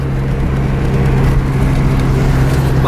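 A first-generation DSM GSX car driving along, its engine giving a steady, loud droning hum with a sustained low tone and road rumble throughout.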